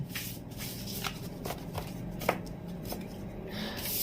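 Tarot cards shuffled by hand during a reading, giving a soft, continuous riffling rustle with a few sharper slaps, close and moderately quiet, with no speech.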